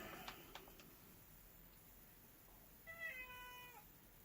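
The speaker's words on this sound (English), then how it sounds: "Cat, you are pushing my limits here." A cat meows in a short run of rising and falling calls late on, after a few faint clicks, with no one speaking.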